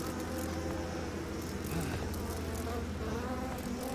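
Locust swarm in the horror video game Outlast 2, a dense, steady insect buzzing that fills the whole stretch at close range, with faint game ambience beneath.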